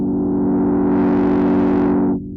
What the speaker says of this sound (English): the distortion that comes with that is just a really, really nice flavor of distortion